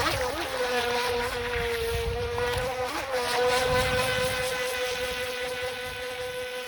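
A Haiboxing HBX X03 RC boat runs on a small pond, its electric motor giving a high, buzzing whine that rises and falls in pitch as it speeds across the water at moderate distance, with no talking.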